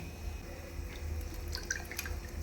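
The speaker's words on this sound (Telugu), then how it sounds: "చింతపండు రసం తీసుకొని ఆ మగ్గుతున్న ఉల్లిగడ్డల్లో వేసేసుకోవాలి" Tamarind pulp soaked in water being squeezed by hand, its juice dripping and trickling steadily into a bowl in a home kitchen, close and fairly quiet, with no talking.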